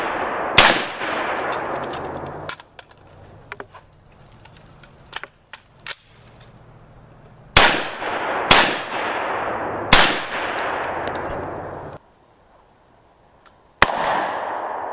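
Rifle shots fired through a Primary Arms 2.5x ACSS scope at a steel target ring out as loud, sharp cracks, about five main reports spaced irregularly, each with a short decaying tail, plus softer clicks in between.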